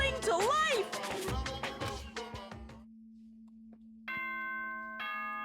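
Announcement chime in the Danganronpa video game: after a stretch of speech, two bright, sustained electronic bell tones ring out in succession, clean and ringing, with a low steady hum underneath.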